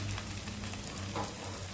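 Oil sizzling steadily around a varai dhirde frying on a griddle, a soft, continuous crackling fry with no talking.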